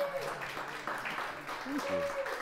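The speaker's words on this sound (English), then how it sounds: "Clap for poetry" Audience at a poetry reading applauds a performed poem with a steady wash of clapping, moderately loud, with voices mixed in throughout.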